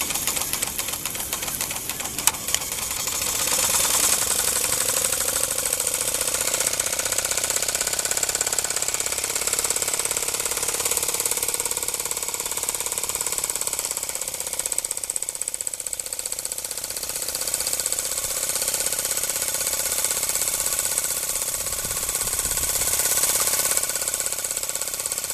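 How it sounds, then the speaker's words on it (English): A Markie live steam traction engine rolling on machined metal wheels, a steady churning, knocking mechanical drone with a hissing, whining edge that holds at an even, close level for the full stretch, with no talking. "it's quite a handful to keep up with this thing and hold the camera and steer at the same time"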